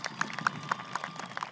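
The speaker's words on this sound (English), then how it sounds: "One more round of applause." Scattered applause from a graduation ceremony audience, loose uneven claps from many hands at moderate distance, soft and brief with a few sharper individual claps standing out.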